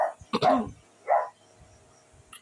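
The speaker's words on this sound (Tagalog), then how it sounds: "Natahol pa nga aso namin." A nearby dog gives a few quick barks, a double bark followed by a single one, then quiet, heard during Minecraft play.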